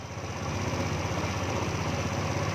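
A Yamaha Novo scooter engine idles steadily after being started, a close, continuous low rumble with even mechanical pulsing throughout, no talk over it.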